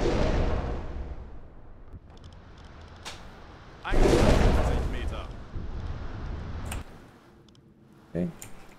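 A deep explosion booms in the UBOAT submarine game, rising sharply around the middle and rumbling for several seconds, with other thuds and clicks before and after under in-game voices.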